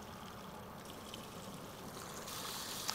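Tap water runs steadily while a film developing tank is rinsed at home, a continuous close hiss and splash that grows slightly brighter toward the end.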